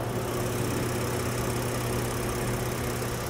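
The 3.8-liter V6 of a 2023 Nissan Frontier Pro-4X idles steadily with the hood open, a quiet, even hum with a faint low drone throughout.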